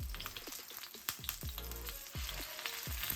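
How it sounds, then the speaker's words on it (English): Chicken pieces frying in a pan, a faint, steady sizzle with soft crackles throughout. "we're going to cook the chicken for about 4 minutes on each side until you start to see it turn a nice golden brown"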